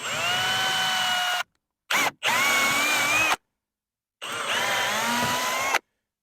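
A power drill with a small 5/32-inch bit bores into the gel coat of a Mako Pro Skiff 17 boat during a bimini top install. Three close, high whining bursts separated by brief silences.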